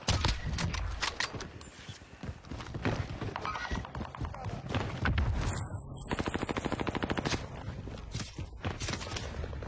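Video game gunfire in a fast shooter, with dense bursts of automatic fire and a steady rapid machine-gun rattle in the latter half, loud and close, mixed with other game effects.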